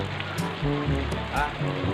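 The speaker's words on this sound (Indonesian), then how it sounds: "tapi hari hujan euy" Steady rain falls outdoors near rice fields, a continuous close hiss with voices speaking over it.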